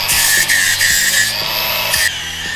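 Loud, steady angle-grinder whine grinding metal slag off a steel truss for a Jeep YJ, continuous at close range with brief dips in pitch as the disc bites, no voices.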